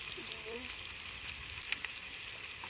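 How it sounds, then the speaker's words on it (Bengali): Onions, mushrooms and chili powder spices sizzle steadily in hot oil in a village kitchen pan, a close, continuous frying hiss with faint stirring clicks. "মশলাটাকে কষিয়ে নেবো।"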